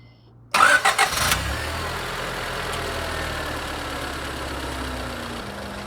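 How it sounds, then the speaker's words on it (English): A car engine with 210,000 miles cranks and catches, a short burst of starter turnover giving way to a steady, even idle that runs close and loud through the rest of the moment. "I'm going to kick the engine back on"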